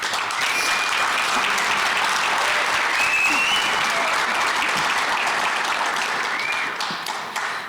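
An audience at a hall of fame recreation program applauds steadily, dense continuous clapping filling the room before tapering slightly at the end.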